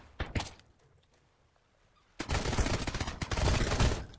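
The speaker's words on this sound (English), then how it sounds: "That's an SMG for you." Rapid SMG gunfire in the survival game Sunkenland, a short burst of shots early on, then a dense sustained string of loud, close firing after a quiet gap.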